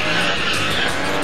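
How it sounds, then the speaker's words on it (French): A drifting car at a stunt show sends out a loud, continuous tire screech that holds steady for its full length, with engine roar underneath and no voices. "faisant glisser leurs pneus dans un sport appelé drifting."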